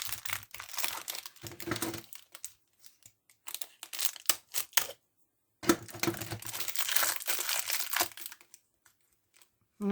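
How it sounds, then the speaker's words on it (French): Crinkling, tearing wrapping paper as a small Christmas pencil is unwrapped, in close bursts of rustling and crackling with a short pause in the middle, no talking. "Un petit crayon de Noël. Je vais vous le déballer."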